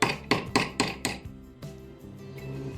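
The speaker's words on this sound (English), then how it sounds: "I'm going to countersink a punch hole in there to start the drill" A hammer strikes a punch into a handle about five times in a quick steady rhythm, close and crisp, followed by a lower muffled knock and quiet handling.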